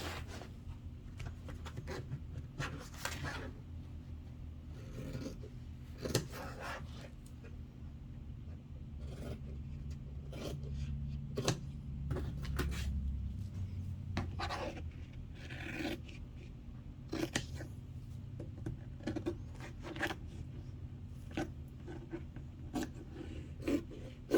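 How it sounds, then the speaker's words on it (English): Scissors cut notches into waterproof canvas: a faint, close series of irregular crisp snips and rasping slices over a quiet room. "I'm going to cut out these notches."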